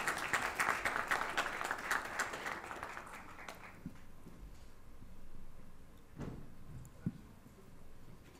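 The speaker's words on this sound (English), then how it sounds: "can we have a big round of applause for Mr." Applause at an achievers award ceremony for an honoree rises briefly and fades within a few seconds, leaving a quiet room with a few scattered knocks and thumps.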